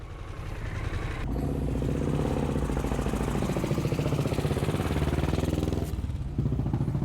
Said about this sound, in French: t'as déjà le bonheur et le plaisir d'entendre pétarader les moteurs